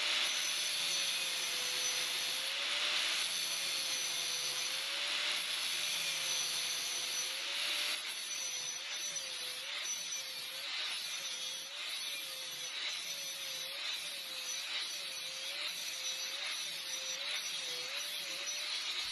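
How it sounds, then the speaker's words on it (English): Angle grinder cutting a fish mouth into steel tube for brackets on a V8 Triumph GT6 build, a loud continuous whine with a wavering pitch and steady grinding rasp throughout, close and alone. "we're just going to do it the old-fashioned way with our good old friend, the angle grinder."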